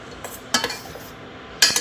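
Metal spoon clinking against a plate while food is mixed, a few bright taps and scrapes in quick clusters, close and fairly loud in a quiet room.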